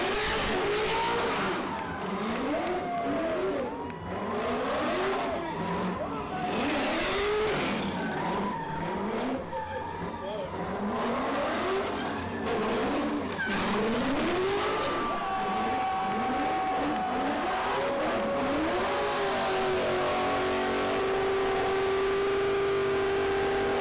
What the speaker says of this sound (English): a lot of these cars are having a ton of trouble breaking traction to spin the wheels